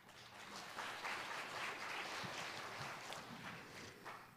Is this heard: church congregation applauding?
yes